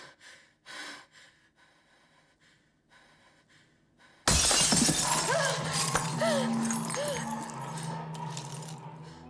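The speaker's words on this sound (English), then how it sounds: "the intruder smashes the kitchen window." Kitchen window glass smashed by an intruder: quiet breathing and gasps give way to a sudden loud shattering crash, followed by a sustained wash of breaking glass and debris.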